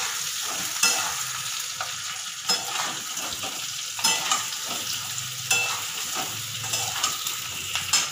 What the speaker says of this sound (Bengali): একটু ভাজা ভাজা হবে, তারপরে আমি আলুগুলোকে তুলে নেব